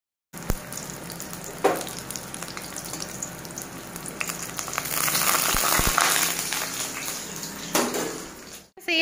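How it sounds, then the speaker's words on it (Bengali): Bora fritters in a gram flour paste with salt and turmeric frying in hot oil, a continuous bubbling sizzle with bursts as batter is dropped in and stirred, growing louder midway. "এতিয়া আমি বড়াবিলাক ভাজিম আর তেল গরম হয়ে গেছে"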